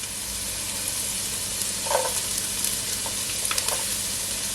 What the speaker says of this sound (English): So my oil is now heat up, so now I'm gonna add my onion first.